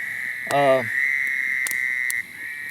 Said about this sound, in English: maybe I'll hear a couple of locator calls over these frogs tonight. I didn't realize they were going to be that loud